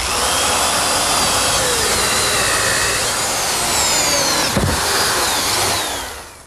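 A drill cuts a 2-inch hole through plywood for a router table, grinding loudly and steadily for several seconds with a brief catch near the end before it winds down.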